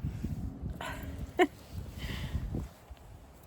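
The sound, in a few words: dog wanting her ball thrown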